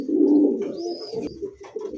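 Fancy pigeons cooing at close range, a loud throaty coo up front followed by softer murmuring coos, with a faint higher chirp in the background.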